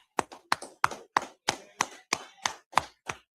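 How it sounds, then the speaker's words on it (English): Evenly spaced, sharp individual claps, about ten in a row with a steady beat, close and distinct with silence between them, at a scripture discussion. "clap it up"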